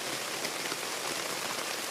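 Heavy rain pours hard and fast onto a backpacking campsite in Frontenac Park in August, a dense, steady hiss of drops on surfaces that is loud and continuous with no voices.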